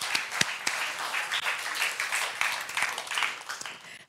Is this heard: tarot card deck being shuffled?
no